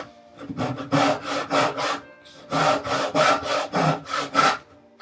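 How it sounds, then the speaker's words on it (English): A fine-toothed dovetail saw with no tooth set cuts wood in quick, even push strokes. It gives two bursts of crisp rasping close up, about five strokes each, with a short pause between them and no voices. "This is a wonderful dovetail saw."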